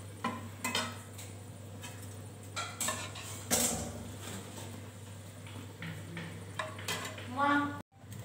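A ladle scrapes and clinks against a pan while lifting fried chicken out of the oil, with scattered metallic knocks and a steady low hum, and a person talks over the kitchen clatter.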